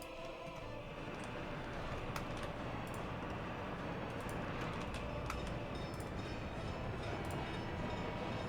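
Freight trains loading in Workers & Resources: Soviet Republic, heard as a steady faint rumble of rail cars with light rattling and clicks, continuous with no talking.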